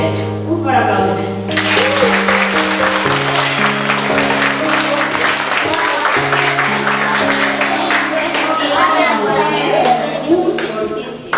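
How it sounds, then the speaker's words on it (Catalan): Applause from an audience at a school end-of-year festival, a sustained wash of clapping layered over sustained music tones, with children's voices mixed in throughout. "Un fort aplaudiment."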